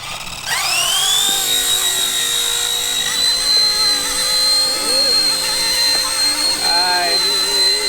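A small remote-control helicopter's motor spins up sharply into a high, steady whine, with rising and falling tones and a faint voice underneath.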